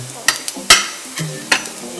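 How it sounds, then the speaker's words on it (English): Minced garlic fries in a hot pan with a steady sizzle, punctuated by several sharp scrapes and clanks of a utensil stirring against the metal, loud and close. "Now I'm going to add in the minced garlic first, and you fry it."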